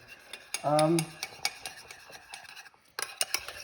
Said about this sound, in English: So we're just stirring it up. Making sure it's nice and smooth.